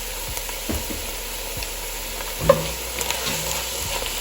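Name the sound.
sautéing okra with Creole seasoning in a pan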